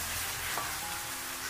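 Eggplant fries over moderate heat in a pan that keeps being shaken, producing a continuous close sizzle with faint stirring movement and no talking.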